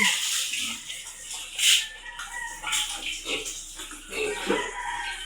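Water splashes and pours in uneven bursts as a pig is rinsed off after bathing outdoors on a farm, with gushes rising and falling over several seconds.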